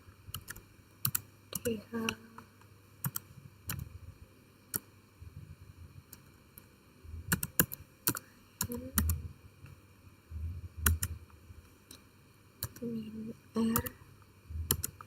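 Keys clack on a computer keyboard as a command is entered in a VirtualBox networking setup, with scattered single presses and short bursts under intermittent quiet talking.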